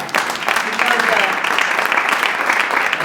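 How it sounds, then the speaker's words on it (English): Applause from a theatre audience after a play reading, a full, continuous patter of clapping at close range with faint voices mixed underneath. "So let's have a big applause."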